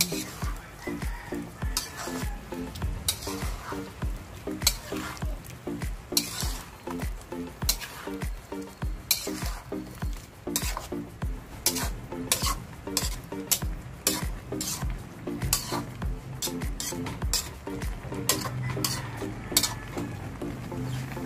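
Hotdog and tofu fry in a pan while being stirred, with a continuous sizzle and frequent scraping and clinking of a utensil against the pan, up close and busy throughout.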